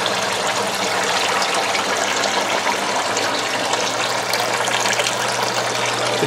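A submersible pump pushes water through a line into hydroponic Dutch buckets, producing a loud, continuous gushing and splashing with a low pump hum underneath, close and steady throughout.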